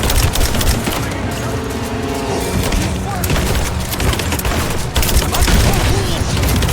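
Rapid gunfire fills a firefight in the Flooded Archives level of Rise of the Tomb Raider, with dense, overlapping bursts and heavy booms throughout at steady loudness, while voices shout over the shooting.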